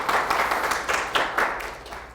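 Applause from attendees at a Jeju social economy support program briefing, moderately loud clapping in uneven bursts that thins out and fades toward the end.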